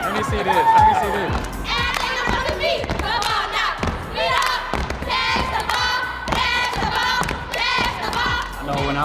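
Children at a Boys & Girls Club in New Orleans perform a cheer, chanting and shouting together over rhythmic thumps and claps, with a crowd cheering along nearby.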